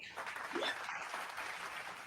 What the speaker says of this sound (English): What, you get applause every time somebody introduces you?